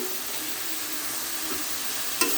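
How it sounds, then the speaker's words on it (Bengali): Chopped potatoes tossed into spice paste frying in a pan, giving a continuous loud sizzle with a couple of soft stirring scrapes and one brief knock near the end. "আমি দিয়ে দিচ্ছি আমার এই কুচি করে রাখা আলুগুলো"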